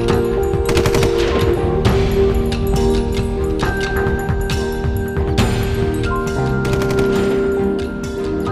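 Sustained machine-gun fire in a battle scene at a bunker, loud rapid bursts rattling continuously over a swelling musical score, with no talking.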